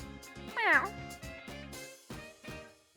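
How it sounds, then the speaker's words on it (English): A cat meows once, brief and rising, amid a busy game-style soundtrack with other tones and clicks around it. "He's a cat, boss."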